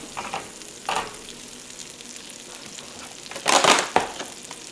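Ingredients frying in butter in a pan on low heat, a soft steady sizzle broken by a few brief scraping and crunching bursts of stirring, close and without speech.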